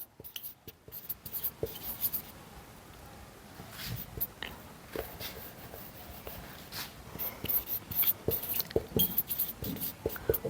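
Chalk or marker taps and scratches across a board during a physics lesson, a string of quick uneven strokes and clicks, quiet and close, with no talking.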